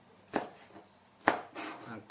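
A knife chops vegetables on a cutting board in a home kitchen, slicing them diagonally: two crisp, distinct cuts followed by a softer, scraping slice, close and fairly clear.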